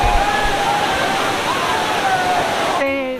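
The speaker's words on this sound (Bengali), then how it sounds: "জলের স্রোত প্রচুর হাই আর সব স্নান করছে স্রোতের মধ্যে" Strong river current rushing past the bathing ghat at Ayodhya, a steady loud broadband wash of water filling the whole clip, with faint voices and a brief tonal sound near the end.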